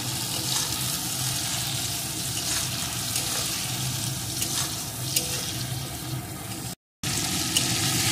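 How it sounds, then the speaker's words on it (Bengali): Salted potato pieces frying in a pan give a steady, dense sizzle that holds at an even level throughout, broken by one brief gap near the end. "এখন আলুটাকে একটু ভেজে নেব।"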